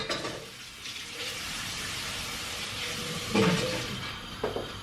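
Running water at a kitchen sink while dishes are washed, a steady broadband wash with occasional clinks and splashes close by, no talking.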